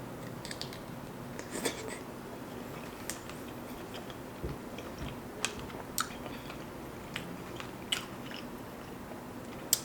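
Someone bites into and chews mussels with sausage up close, with soft, steady wet mastication broken by sharp crisp bite clicks spread across the clip, quiet and intimate.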